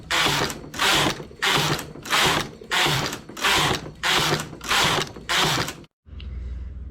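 A knitting machine working a blanket scarf gives eight rhythmic ratcheting carriage passes, each a loud mechanical burst about a second long, followed by a low hum after a short pause.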